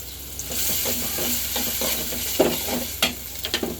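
Ginger, garlic and cumin paste frying in a pan, a steady sizzle with repeated scraping stirs of a spoon, close and fairly loud with no talking.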